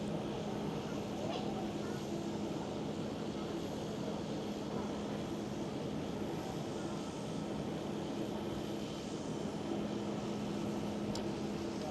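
A single propeller airliner engine at Schiphol Amsterdam airport, a steady droning rattle that holds at even loudness throughout with a constant low hum and broad noise.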